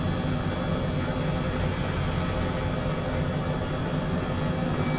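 Steady whirring drone of an Airbus H135 helicopter in flight in Microsoft Flight Simulator over the Andorra mountains, constant and unbroken throughout.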